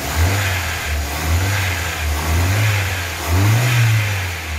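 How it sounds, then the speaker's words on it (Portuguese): Ford Fiesta 1.0 8v engine revving unevenly in repeated surges, misfiring and stumbling as it struggles to pick up, close and fairly loud with no voices. "Ele rateia muito e o carro não dá aceleração."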